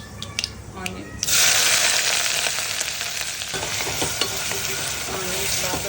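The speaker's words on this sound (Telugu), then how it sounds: "నాకు ఆనియన్స్ గోల్డెన్ బ్రౌన్ టర్న్ అవుతుంది కదా" Onions fry in about three spoons of hot oil with mustard seeds and cumin for veg kurma: after a few quiet clicks, a loud sizzle surges and holds, with scraping stirs and a voice speaking over it.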